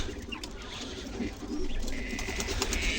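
Quail chicks in a brooder give soft, close cooing and chirping calls over a low background rumble, continuous through a few seconds.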